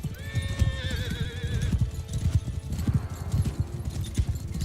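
Horses gallop in Mount & Blade II: Bannerlord, a dense, rapid hoofbeat clatter throughout, with a clear whinny rising over the hooves early on and faint battle noise behind.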